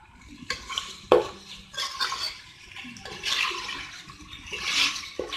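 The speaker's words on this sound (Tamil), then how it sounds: "இதையும் நல்லா மிக்ஸ் பண்ணி விட்டுருங்க." A spoon stirs mutton biryani masala with half a tomato in a cooking pot, giving repeated scraping and clinking strokes with wet, squelchy mixing sounds in an irregular rhythm, close and fairly loud.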